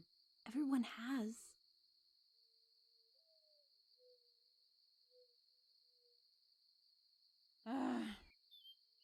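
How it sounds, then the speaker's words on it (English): Nighttime crickets in the Skyrim video game keep up a steady, thin, high chirring drone from start to finish, faint in the background, while voices speak briefly at the beginning and again near the end. "The crickets. They've stopped."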